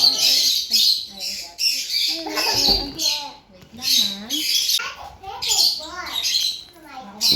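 Ducks squawk at feeding time at a mountain lake resort, with a run of repeated close, harsh calls tangled with chatter from nearby people.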